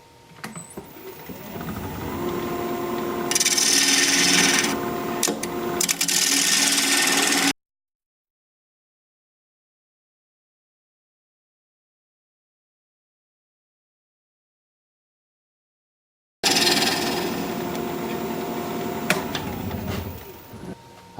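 Wood lathe spinning a live-edge mulberry bowl at 1200 RPM as a sharp bowl gouge cuts, a steady machine hum with bursts of scraping, then a long silent gap before the turning resumes.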